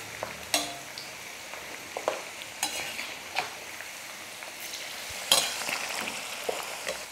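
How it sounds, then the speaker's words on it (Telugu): Green chillies crackle in hot oil while ivy gourd fries, giving a steady soft sizzle with sharp, scattered pops and snaps at irregular intervals. "జాగ్రత్తగా ఉండండి, మిర్చి కొంచెం పేలుతుంది"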